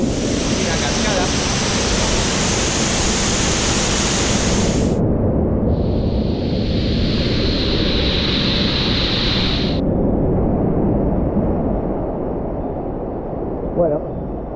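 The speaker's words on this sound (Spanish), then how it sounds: "La cascada." Steady, dense broadband rush of a waterfall at Trou de Fer, Salazie, Réunion, loud and continuous throughout, with a brief change in hiss partway through.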